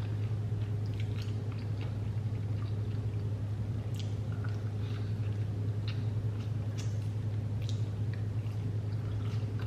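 Someone chews saucy chicken wings close to the mic, producing wet, squishy bites and smacking sounds over a steady low hum, with no talking.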